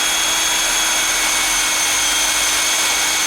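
A deep drilling screw driven into metal with a power drill, a loud steady high whine holding constant throughout, close and alone.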